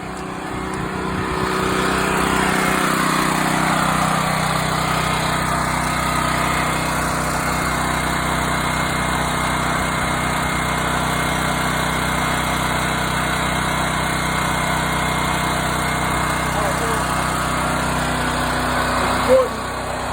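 A portable generator runs outdoors during a power outage, a steady droning engine hum holding for about twenty seconds, close and constant, with a brief click near the end.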